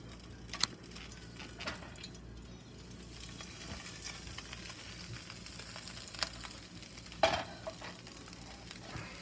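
Cube steaks frying in a little oil in a pan give a low, steady sizzle, broken by occasional sharp clinks and scrapes of utensils.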